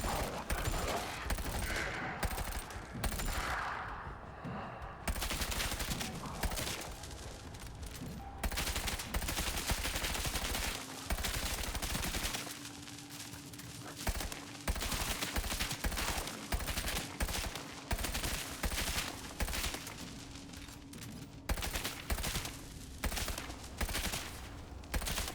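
Sustained gunfire in FBC Firebreak, a cooperative shooter, with dense rapid bursts and repeated volleys filling nearly the whole stretch, loud and close, broken only by short pauses.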